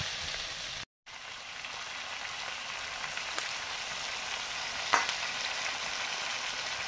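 Meat for kosha mangsho added to a hot pan with spices and chilli powder, giving a steady, dense sizzle and frying crackle throughout, with a brief dropout early on and a small clatter near the end.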